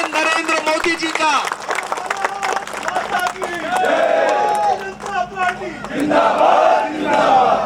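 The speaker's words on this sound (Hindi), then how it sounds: "जोरदार ताली बजा करके स्वागत करें नरेंद्र मोदी जी का।" Crowd at a political rally in India welcoming Narendra Modi, loud cheering and shouting with scattered clapping, voices rising in waves throughout.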